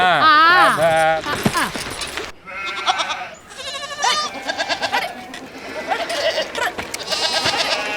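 Sheep bleat loudly and close, several overlapping wavering cries from a flock blocking a road, with people's voices mixed in among the calls.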